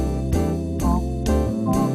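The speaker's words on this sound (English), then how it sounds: "it always defaults to what Lowry always called the sweet Lowry organ sound" A Lowrey home organ sounds its default sweet theater organ voice, playing sustained chords that change at a slow even pace, clear and alone with no talking.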